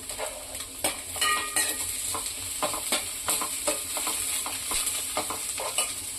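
Vegetables with green chillies and curry leaves sizzle and fry in a pan while a spatula scrapes and stirs in irregular strokes, steady hiss underneath, close and fairly loud with no voices.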